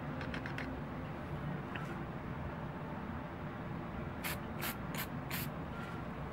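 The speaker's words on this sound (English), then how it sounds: "I've got my hand blocking the spray from hitting the glass eyes" Aerosol spray on a taxidermy whitetail deer mount: a continuous close hiss that runs throughout, with a few sharp light clicks or taps near the end.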